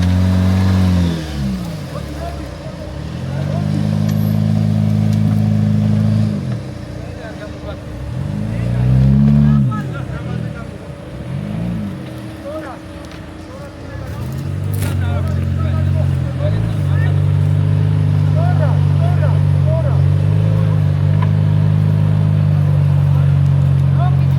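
A loud off-road car engine revs hard at a difficult off-road club competition, climbing and dropping in pitch through repeated surges before holding a sustained high drone.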